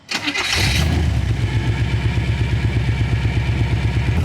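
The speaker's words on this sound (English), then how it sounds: "Throttle stuck. It's super dangerous." A hot rod engine runs with its throttle stuck slightly open, a loud, steady rumbling idle with a fast regular pulse that settles in after a brief start and holds without letting up.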